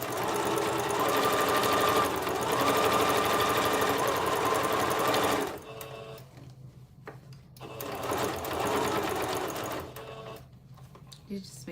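A sewing machine stitches over a bear appliqué on baby clothes, its steady motor hum running close and loud, stopping briefly partway and then starting again for another short run, with someone talking over it.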